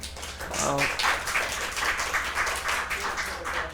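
A live audience applauds a band with scattered clapping that swells and holds steady for several seconds.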